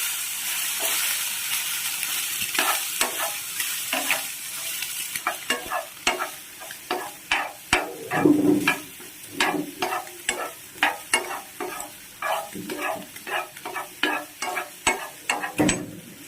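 Egg frying in a pan and being stirred, with a constant sizzle beneath rhythmic scraping strokes that grow quicker and more regular toward the end, close and clear without voices.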